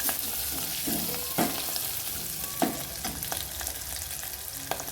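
A spoon stirs turmeric into a pot of cooking dal, giving soft scraping strokes at irregular intervals over a steady low sizzle, close and moderately loud with no voices.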